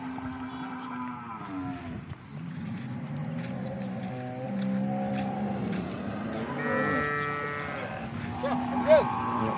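Cows on a Gujarati cattle farm moo in long, low, drawn-out calls, several overlapping across the stretch, with a rising, higher-pitched moo near the end.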